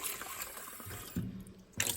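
Water from a paint water bowl is tipped out and rinsed under running water, a brief close splashing and trickling with a short gurgling burst near the end.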